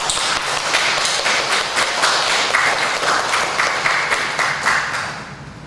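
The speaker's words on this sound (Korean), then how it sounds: "큰 축복의 박수 드리겠습니다" A congregation at a Sunday church service gives a round of applause, a dense burst of many hands clapping that holds steady, then thins and fades toward the end.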